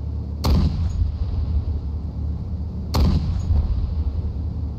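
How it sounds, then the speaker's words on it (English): A working tank in the DayZ video game fires twice, about two and a half seconds apart, each a sharp loud boom with a rumbling tail over a steady low engine drone. "The best vehicle is a working tank."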